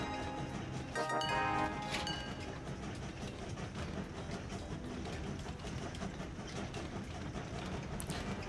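A train running in the video game Train Valley, a steady mechanical rumble with rolling clatter and a brief horn-like tone near the start, fairly faint throughout.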